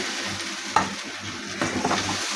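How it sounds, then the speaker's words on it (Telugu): Tiger prawn fry with coriander being stirred in a pan: a constant close sizzle with two brief scraping strokes of the spoon. "అన్నీ వేసిన తర్వాత మొత్తం ఒకసారి కలుపుకోవాలి"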